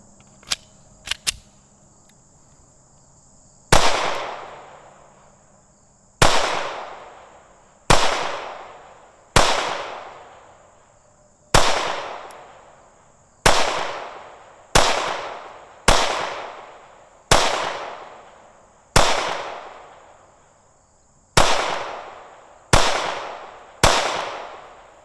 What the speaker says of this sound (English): The pistol is very flat shooting.